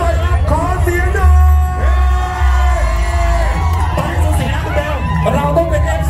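Spectators at the Pathum Thani Speedway race track cheer, whoop and yell in a loud, sustained roar, with a voice calling out over the noisy crowd throughout.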